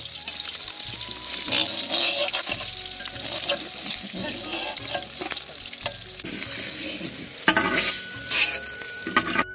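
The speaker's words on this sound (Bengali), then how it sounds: "এরপরে আর একটা আমরা ভাজবো।" Sea pangasius fish fries in oil in a wok, a steady close sizzle broken by the scrape and clatter of stirring and turning the pieces, with a few louder clanks near the end.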